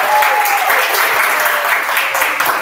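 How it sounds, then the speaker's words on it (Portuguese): Close, loud applause fills a demo day innovation event in Arcoverde, Brazil, as the crowd claps for a professor called to the front; the dense clapping stays continuous, with a brief whistle-like tone early on. "Salva de palmas aqui para o professor Pedro."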